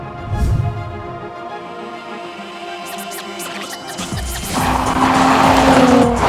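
Jaguar F-Type V6 S sports car on the road, engine note building as it drives past, with tyre squeal and a louder surge of engine and road noise near the end, no talking.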